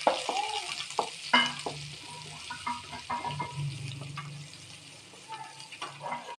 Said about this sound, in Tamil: இப்போ வந்து நம்ம வெங்காயம் கருவேப்பிலை ஆட் பண்ணிக்கலாங்க. நம்ம நல்லா ஃப்ரை பண்ணிக்கலாம்